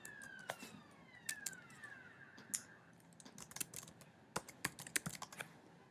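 Computer keyboard typing as a Google username and password are entered: irregular crisp key clicks, sparse at first then quicker clustered bursts near the end, with faint falling tones drifting in the background.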